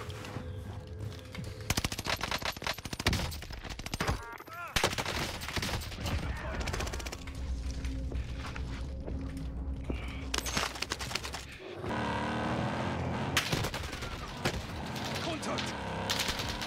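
Rapid bursts of automatic gunfire in an online battle-royale shooter, dense and loud with sustained fusillades and overlapping weapon sounds; a second stretch of firing mixes with other game noise, and a player talks intermittently over it.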